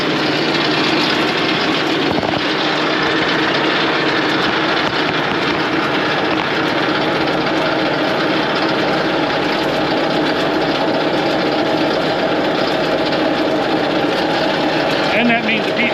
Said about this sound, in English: the tractor just decided to go into regen